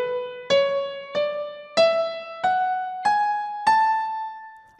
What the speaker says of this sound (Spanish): Esta es la escala de la mayor, sin olvidar sus alteraciones.